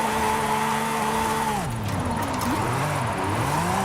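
A red Lamborghini drifts in Forza Horizon 5, its engine holding a steady, loud tone before the pitch drops and wavers as the revs fall and climb again through the slide, alone with no talk.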